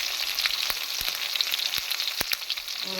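Onions fry in a pan with garlic for a ridge gourd chutney, giving a steady, close, crackling sizzle with a few sharp stirring clicks and no talk.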